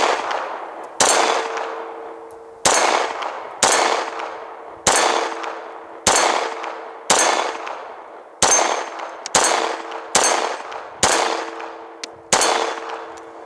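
A Glock 21 pistol fires eleven sharp shots outdoors, spaced about a second apart. Each crack carries a ringing metallic tail that fades before the next shot.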